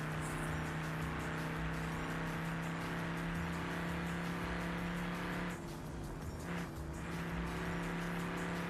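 A 1930s car with a four-speed gearbox and drum brakes accelerates hard, its engine a loud, continuous strained drone with a brief dip and shift around the middle before it pulls on.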